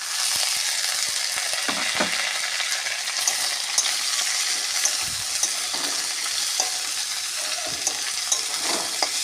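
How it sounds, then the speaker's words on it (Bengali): Vegetable stems and potatoes sizzle steadily in a hot pan, a dense close frying hiss broken by occasional spatula scrapes and stirring knocks. "আলু ভাজা হয়ে গেছে, এবার ডাঁটাগুলো দিয়ে দেবো।"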